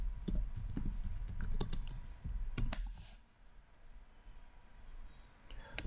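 Keys clatter on a computer keyboard in quick, uneven bursts, close and fairly quiet, followed by a brief pause and a few final taps.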